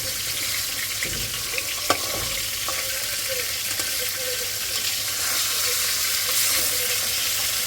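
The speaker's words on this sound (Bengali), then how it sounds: "এখানে মাছ ভাজি করতেছি" Fish frying in a pan, a steady close sizzle and crackle running throughout with occasional faint clinks, alongside a low continuous hum.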